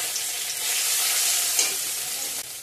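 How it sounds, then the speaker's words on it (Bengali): Whole cumin seeds and crushed ginger hitting hot oil for a vegetarian potato and pointed gourd curry, producing a bright, dense, continuous hiss of sizzling that swells slightly and stays steady. "দিয়ে দেবো গোটা সাদা জিরা, দিয়ে দিলাম। থেতো করা আদা দিয়ে দিলাম।"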